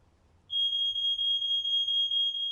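A fire alarm in a TV show starts after a short quiet moment and then sounds as a loud, steady high-pitched electronic tone with rapid pulsing, heard alone.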